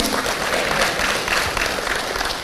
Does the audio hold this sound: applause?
yes